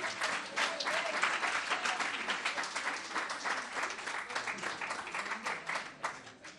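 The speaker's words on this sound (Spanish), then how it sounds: "Denle un aplauso a nuestro Dios" Congregation applause during a Spanish-language Sunday church sermon, dense and continuous clapping with audible individual claps, steady and fairly loud from start to finish.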